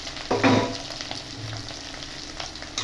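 Boiled, chopped potatoes hit hot ghee with cumin seeds, giving a sizzling fry with a brief louder burst as they go in, then a steady crackle under light stirring.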